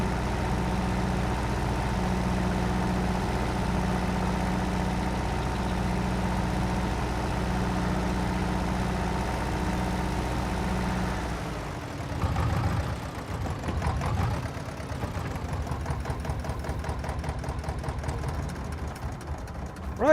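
A 35-horsepower tractor engine idles with a steady low drone in the Farming Simulator 22 video game, then shifts to a rougher, revving rumble partway through, loud and with no talk.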